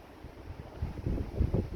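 Gusty outflow wind from a supercell thunderstorm buffeting the microphone, low rumbling rushes that grow stronger and more turbulent over a couple of seconds.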